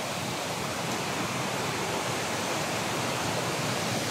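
Constant rushing of a flowing river in Oriental Mindoro, Philippines, a dense, even wash of water noise with no breaks or voices.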